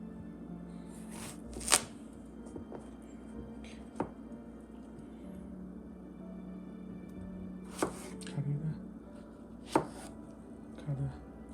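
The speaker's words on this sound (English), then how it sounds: "We probably just need 1/3 of cucumber. Then we just cut it." A knife chops a cucumber on a cutting board for a fried sweet corn, carrot and cucumber dish with pine nuts, scattered quiet cuts with a few sharper taps, faint and close against soft kitchen background.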